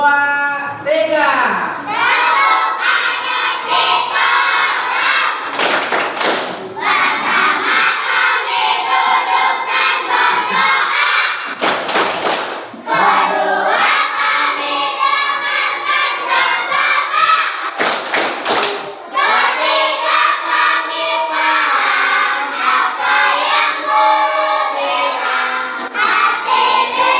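A class of schoolchildren chanting a rhythmic clapping cheer in a classroom, loud rapid sing-song voices mixed with sharp claps and a few louder slap bursts, continuing almost without break.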